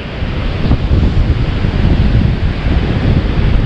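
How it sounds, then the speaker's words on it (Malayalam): Cold wind blows steadily at Forest Caves beach on Phillip Island, a loud broadband rush buffeting the microphone throughout, likely mixed with surf, with no voices. "നല്ല തണുത്ത കാറ്റുമുണ്ട്"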